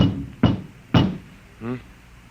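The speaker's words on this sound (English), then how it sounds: "There was a knock on the door." Two sharp knocks on a door in an old radio science-fiction drama, spaced about half a second apart, close and distinct, followed by a short murmured voice.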